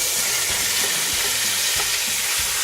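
Chicken browning in a pot on the stove for a cranberry and garlic roast, with a steady loud sizzle and faint periodic stirring scrapes throughout.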